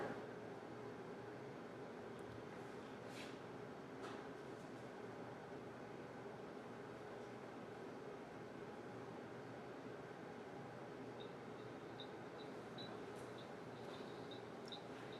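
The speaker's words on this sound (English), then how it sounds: "it was playing just white noise until it actually approached the audio track" Steady broadband white noise hisses from a recorder's playback for the whole stretch, even and continuous at a moderate level, with a few faint tonal blips toward the end and no talking.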